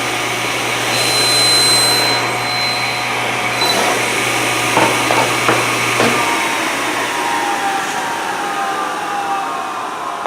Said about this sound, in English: So now I'm going to go ahead and cut all of my 7/8 stock.